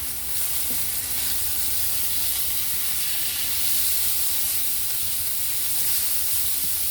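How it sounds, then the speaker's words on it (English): Thin minute steak meat for cheesesteaks frying in a pan, a steady, dense sizzle with a constant hiss, close and even throughout with no talk. "The meat is at least all starting to cook a little bit"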